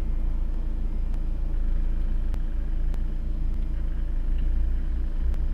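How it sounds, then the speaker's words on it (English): Car engine idling under alternator load, a steady low rumble with slight shifts in engine speed and a few faint clicks, with no talking. "you can hear the engine speeding up and slowing down as the load goes on the alternator."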